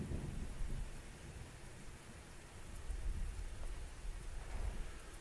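Steady rain with rolling thunder rumbling low in Grand Tactician, a Civil War strategy game, the downpour hissing continuously while deep booms swell and fade across the whole stretch, with no talking.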